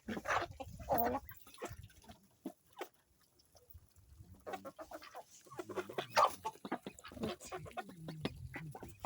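A chicken clucks repeatedly close by, in uneven bursts with short pauses, amid other faint farmyard bird sounds.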